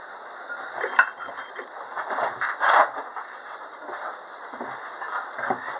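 A utensil scrapes and clinks against a bowl as melted butter and vanilla are mixed for a doughnut batter, with irregular taps and clanks over a quiet room hum.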